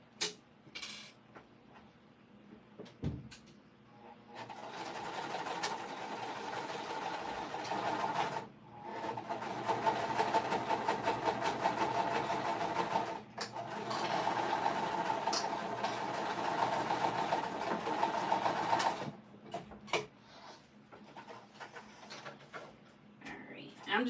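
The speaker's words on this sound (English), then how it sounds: "I'm just going to sew both of the sides and then top stitch them open." A sewing machine runs in long steady bursts as it stitches both sides of a fabric piece, stopping briefly between seams, with a voice speaking at moments.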